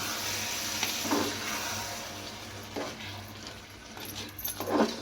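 Rice is stirred into a tomato-coriander paste in a hot frying pan: a continuous sizzle broken by three or four scraping spatula strokes, close and moderately loud.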